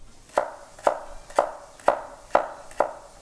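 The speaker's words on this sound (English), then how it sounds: "After you give it the heavy chop" A knife chops vegetables on a cutting board for beer cheese soup, six evenly spaced sharp thuds roughly half a second apart, close and clear with no talk.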